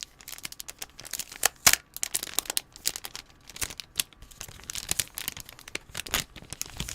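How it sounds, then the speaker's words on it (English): Package holding an acrylic standee being opened by hand, close, irregular bursts of crinkling plastic, tearing and rustling, with sharp crackles scattered throughout and no voices. "This is the sound of me opening the package that contains my wife."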